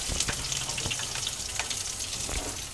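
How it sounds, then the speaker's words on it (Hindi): Chopped onion tipped into peanuts already frying in a pan for a sewai recipe, giving a steady bright sizzle throughout with a few soft clicks and stirring knocks, fairly close and without talk. "अब इसी में हम डाल देंगे ये कटी हुई प्याज"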